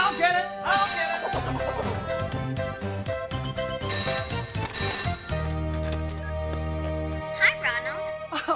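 A cartoon picture phone rings with bright electronic jingling tones and musical chimes, then a steady tone, heard over a busy musical soundtrack.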